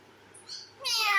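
A cat meows indoors, a short faint call rising into a louder, bright meow at the end, alone without talk.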